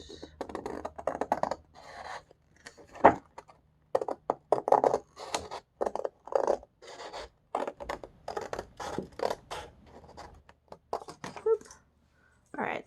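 Scissors snipping out a folded paper strip for a pop-up card, a rapid run of short, close crisp cuts and rustles filling the clip, with brief pauses between bursts.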